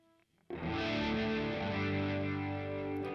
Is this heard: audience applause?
no